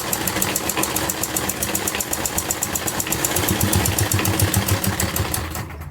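A sewing machine stitches the neckline of a velvet kurti, its motor running in a fast, steady mechanical rhythm with a continuous whirring hum that stops abruptly at the end.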